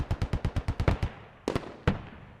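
Grenade launcher rounds explode inside a building: a rapid string of about ten sharp close blasts, then two more spaced bursts trailing off, with no talk.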